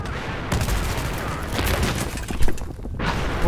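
Rapid AK rifle fire in a video game fills the clip with a continuous, loud, close rattle of shots and a heavier boom near the end.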